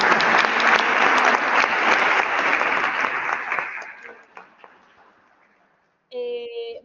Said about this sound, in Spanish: pues entonces un aplauso a todos